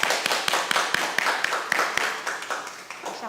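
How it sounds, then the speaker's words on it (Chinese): A church congregation applauds during a Sunday service, giving a short burst of scattered clapping with sharp individual claps over a softer wash, fading toward the end. "那我们是不是一个掌声"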